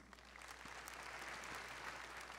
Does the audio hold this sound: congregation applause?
yes